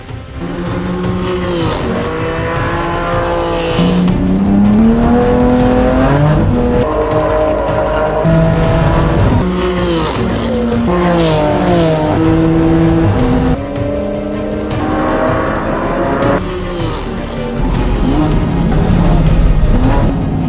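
A race car laps a track, its engine rising and falling continuously through repeated shifts and braking, with tire squeal at corners. The sound is loud, close and sustained throughout.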